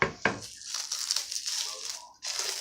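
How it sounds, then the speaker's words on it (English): A knife pressing through a solid, set doner kebab meat log, with crinkly crushing and tearing, as if through a plastic wrap, two sharp initial cuts then a sustained crackle, a brief pause, then more crinkling, close up and without voices. "So what we are going to do is to cut it open"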